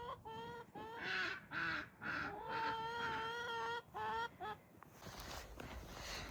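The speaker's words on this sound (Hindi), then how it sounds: "तो ये बत्तखों का फार्म हाउस है। ओ सॉरी, मुर्गे भी हैं।" Chickens and ducks on a farm in Germany clucking and calling loudly in repeated bursts, close by, with a brief stretch of noisy rustle near the end.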